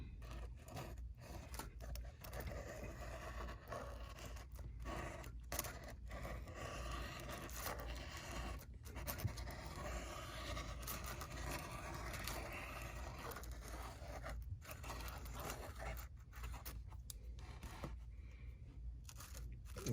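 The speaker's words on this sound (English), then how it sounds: "This is the first time that I'm actually cutting these risers out" Cutting out risers for an HO scale model railroad layout, a continuous close scraping and rasping cut with brief pauses, steady and fairly loud throughout, with no talking.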